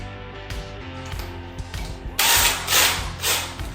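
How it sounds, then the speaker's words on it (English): A power drill with an extension rod whirs in short bursts, then runs longer and louder as it bores upward, close by with mechanical clicks between. "So we're gonna go up with our drill and just add these Cat 6 lines."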